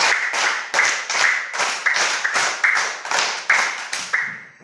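A classroom of primary school pupils clap in unison, roughly ten sharp, evenly spaced claps in two quick groups of five, loud and close with no talking.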